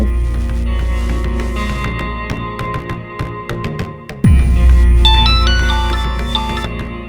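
A mobile phone ringtone in a Hindi TV drama scene, with bright melodic electronic tones chiming over a backing score and a sudden low swell partway through.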